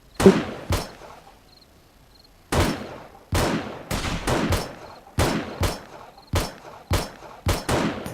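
Gunfire in the video game 7 Days to Die: a string of sharp, loud single shots, about a dozen cracks with irregular pauses, one short early burst and a quiet gap, then steady spaced firing; no speech.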